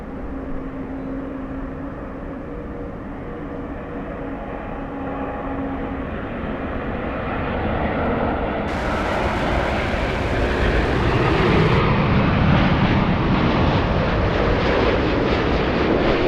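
Latam airliner with Rolls-Royce Trent 1000 engines powering up at Los Angeles airport, a broad steady roar with a hum that builds gradually and grows louder and fuller, heard from a distance with wind noise.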